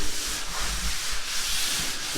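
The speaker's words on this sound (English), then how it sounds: "Mr. Stanley over here is sanding it down" A worker sands down a skim coat on an interior wall of a house under construction, with steady rhythmic rasping strokes, moderately close and uninterrupted by speech.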